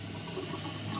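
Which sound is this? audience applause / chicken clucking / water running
water running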